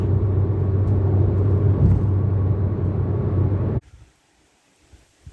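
Low, steady engine and road rumble from a car with a six-speed gearbox driving, heard close up, then cutting abruptly to near silence for the last second and a half.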